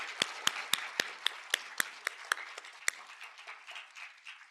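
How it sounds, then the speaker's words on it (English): Audience applause for the panelists at the close of a workshop session on energy transition in Asia, starting as a few sharp, distinct claps and then thinning into softer, scattered clapping from a modest crowd. "please join me to give a big applause to our honorable panelists today"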